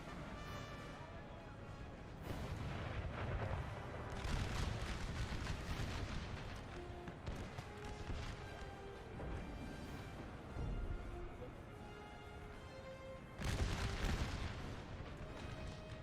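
Artillery and mortar fire from an American Civil War strategy game, heavy booms and distant rumbling blasts rolling on over a continuous battle din, with a louder cluster of explosions near the end.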